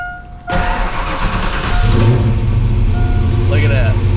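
A 1987 Saleen 347 V8, previously unbalanced and now fitted with its transmission and exhaust, cranks and catches after half a second, then settles into a loud, steady running rumble close by.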